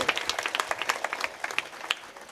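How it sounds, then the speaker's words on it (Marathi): Kirtan audience applauding loudly, a dense stretch of many hands clapping fast and close throughout. "एकदा सप्ताह कमिटी करता सर्वांनी जोरात टाळ्या वाजवायच्या"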